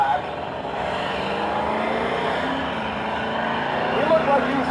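A naturally aspirated Cadillac drag car groans down a drag strip at a duct-tape drag event, a steady loud engine drone held across the run with a faint crowd behind.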